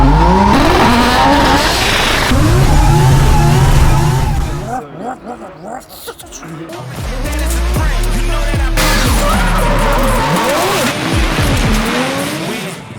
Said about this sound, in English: this is the world's first 3-rotor Volvo 740